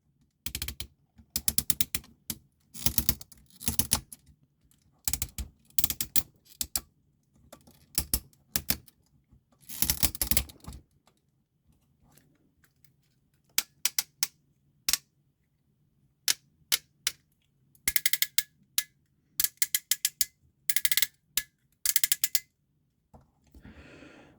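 Rapid, crisp clicking bursts from the ratcheting joints of a Transformers Legacy Commander action figure as its limbs are moved, coming in separate clusters with quiet gaps between them, close and fairly soft.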